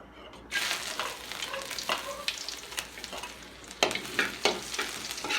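Ginger sautéing in hot oil in a pan for pork pata papaitan, a steady crackling sizzle beginning after a brief quiet start, with scraping stirs and clatters breaking through at intervals.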